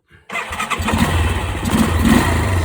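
An MT350 motorcycle with an Aprilia engine fires up after a short cranking burst, then settles into a steady, close, loud idle with a rapid even putter.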